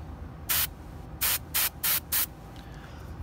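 Airbrush spraying paint in bursts of hissing air: one short burst, a pause, then four quick evenly spaced sprays close up over a faint background hum.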